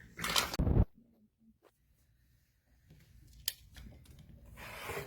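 Scissors cut an embroidered fabric piece down to size for a wristlet bag, a loud close burst of cutting at the start, then a quiet stretch with light handling and rubbing of the fabric before more scraping returns.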